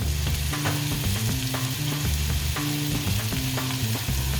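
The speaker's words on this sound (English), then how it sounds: "we're gonna add our mushrooms, and that's 8 ounces of mushrooms. And our remaining shallots." Mushrooms and shallots fry in melted butter in a pan, a steady close sizzle with occasional stirring scrapes and no talking.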